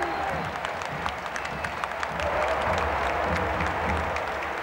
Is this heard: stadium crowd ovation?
yes